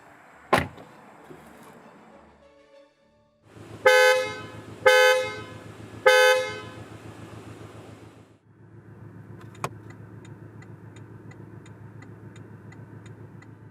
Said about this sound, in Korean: 여기서 718 박스터의 도어나 방향지시 등이 내는 소리를 들어볼까요?